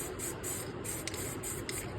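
Chrome spray paint hisses from an aerosol can onto plastic in short bursts, a steady close spray broken by brief pauses, with no talk.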